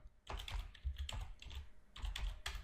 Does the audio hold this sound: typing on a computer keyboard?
yes